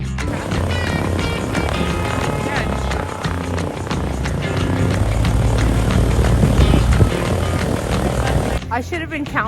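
Small propeller airplanes droning over a frozen Canadian lake near an off-grid cabin, a steady loud engine hum with people talking throughout and a sudden drop in the final second.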